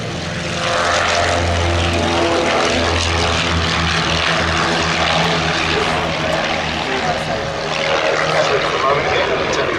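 A Noorduyn UC-64A Norseman propeller aircraft flies past at an air display, its radial engine droning loud and steady throughout, with a public-address voice talking over it.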